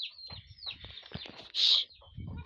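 Chickens cluck close by around a house, a run of short busy clucks with one sharper squawk in the middle and more clucking at the end.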